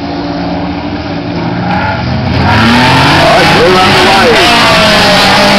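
Production race cars circulating at a racetrack during a men's race, engines loud and close as they accelerate past, rising and falling revs with tire noise, an announcer's voice running over them.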